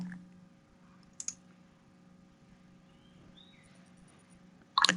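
A computer mouse clicks while someone works in the MATLAB desktop: a quick pair of sharp clicks early on, a long quiet stretch with faint hum, then a louder cluster of clicks at the end.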